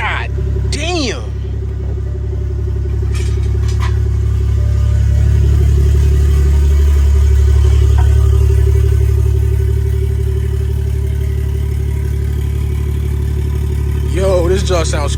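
A BMW 340i (F30) with its B58 engine runs with no exhaust fitted, giving a loud, deep, steady rumble that swells slightly mid-way. Brief voices come in at the start and end.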